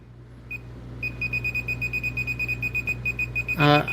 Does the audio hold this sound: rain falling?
no